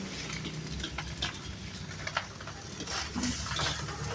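Egg fried rice being stirred and fried in a pan, with a steady sizzle under scattered scraping and clinking of a utensil against the pan, close up and with no talk.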